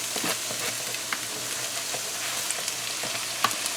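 Washed rice goes into a hot frying pan for Spanish rice, giving a steady close sizzle with a few light stirring clicks and no talking.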